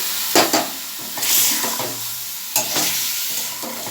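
Gourd, potato and pointed gourd pieces fry with ground cumin paste in a pan, stirred in bursts of scraping and sizzle over a steady hiss, close and fairly loud.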